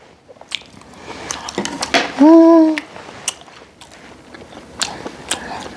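Grilled butter abalone being eaten, with close soft bites and wet chewing, squishy mouth sounds and a brief hummed voice in the middle.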